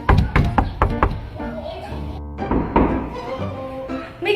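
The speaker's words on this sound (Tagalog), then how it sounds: "May kumakatok na naman." Knocking on a front door at home, a rapid burst of firm thuds up front, then quieter taps and a hollow thunk later, with voices talking in between.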